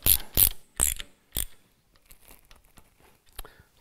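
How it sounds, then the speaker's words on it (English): A ratchet tightens alternator bolts on an LS marine engine conversion, giving four quick sharp clicks close up, followed by softer faint clicks and handling sounds. "and then we'll take and tighten these bolts up"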